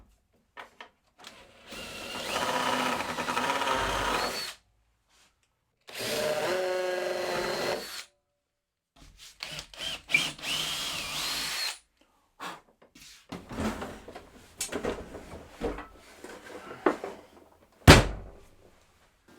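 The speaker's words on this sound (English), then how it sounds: "get a 6mm drill bit and drill through the angled one" A 6mm bit is driven through an angled hole while making new saw stands, giving several loud bursts of power-drill whine separated by pauses, followed by shorter bursts and a sharp knock at the end.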